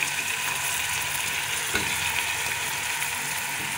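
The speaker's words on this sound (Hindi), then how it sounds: "अब हमने थोड़ा सा इसको फ्राई किया अदरक लहसुन के" Mutton chaap pieces frying in a pan with ginger and garlic, a steady close sizzle with faint scraping of stirring throughout, no voices.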